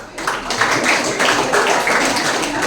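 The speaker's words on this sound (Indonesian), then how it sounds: "Keren, tepuk tangan dulu" Applause from a school audience at an outreach session at a vocational high school, a steady run of rhythmic claps, fairly loud and close, with faint chatter underneath.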